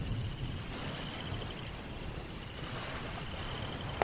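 Heavy storm rain at night in a Bengali horror cartoon makes a constant close wash of hiss over a low rumble, steady throughout with no voices.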